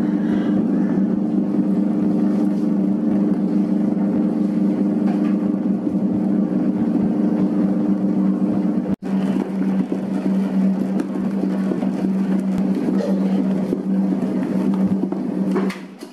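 A stand mixer kneads bread dough for soft burger buns, a steady loud motor hum with a brief cut partway through before it resumes, running alone without talk.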